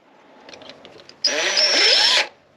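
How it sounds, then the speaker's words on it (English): A power drill bores out a rivet, a brief whir of light taps before the bit bites and a loud, strained grinding whine holds for about a second, then stops. "Alright, let's drill it out first."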